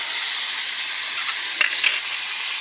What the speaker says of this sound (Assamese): বুটখিনি দি দিলো এতিয়া দেখক এই বুটখিনি এনেকৈ লাৰি আছে